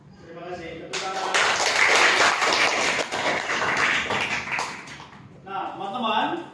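Applause from a school audience at an OSIS student council campaign event, a dense burst of clapping lasting several seconds, with voices talking before and after it.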